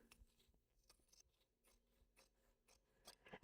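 Scissors snip through backing fabric for a cross stitch pillow topper, a run of quiet, close crisp cuts with a louder final snip.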